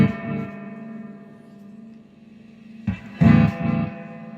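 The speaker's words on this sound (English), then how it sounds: "A little echo action." Echo from an Electra EP-250 analog delay unit fitted with a replacement spring reverb tank: a sustained tone trails off in repeats, then a louder burst of notes follows with its own echoing tail, with no voices.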